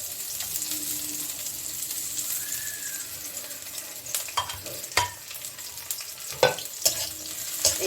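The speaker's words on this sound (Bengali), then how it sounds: "এই তেলে আমি দিয়ে দিচ্ছি কি, এই যে করলা, করলাটা ওখানে আমি দিয়ে দিচ্ছি।" Bitter gourd (karela) frying in oil over high heat: a steady, close sizzle with utensil clinks and scrapes from stirring that grow more frequent toward the end.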